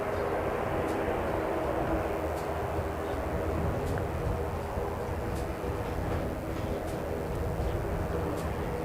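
A Fiji Airways airliner arriving at an airport, heard as a steady, distant engine roar that holds at an even level throughout, with no talk.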